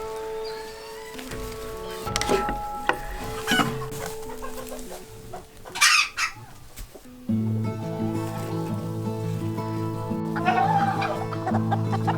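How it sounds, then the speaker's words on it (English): A naked neck hen with her five chicks clucks in a barn, with bursts of nearby clucking and scattered calls rising over a steady background of other sounds. "This naked neck hatched out chicks in our barn some weeks ago, and she has 5 chicks in there"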